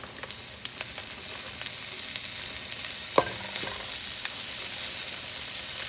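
Frozen peas are stirred into Chinese fried rice frying in a pan, giving a steady close sizzle with occasional scrape and clatter taps, one sharper knock near the middle.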